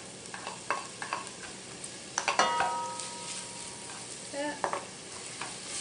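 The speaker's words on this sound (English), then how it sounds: "now that our oil is hot, we're going to go ahead and add our onions." Onions just added to hot olive oil for a vegetarian chili, sizzling steadily while a utensil scrapes and clinks against the pot a few times, nearby and with no voices.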